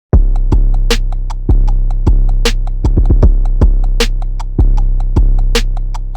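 Loud, punchy beat pattern with booming 808 kicks, a pair of hard kick hits landing close together, over a sustained deep 808 bass line, ticking hi-hats and sharp claps.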